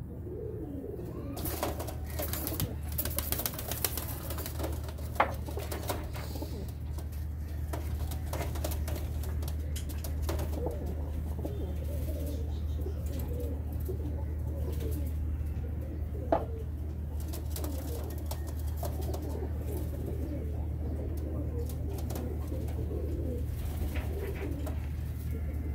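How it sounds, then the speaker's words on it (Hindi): Golden pigeons coo in soft, repeated low calls over a steady low background hum, with a couple of brief sharper sounds partway through and no talking. "अब छोड़ के भी दिखाएं आपको हम कबूतर।"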